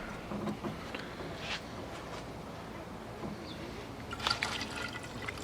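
Water poured into a car radiator makes a faint, continuous trickling and filling sound, with a few small splashes and clinks near the end and no talk over it.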